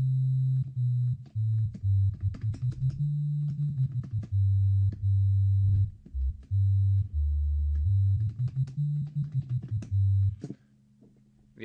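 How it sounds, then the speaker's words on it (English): A synthesized tone slides up and down in pitch with a slightly gritty, distorted edge, stopping and restarting in short phrases. "So this is a sine wave now, but there's some distortion on it"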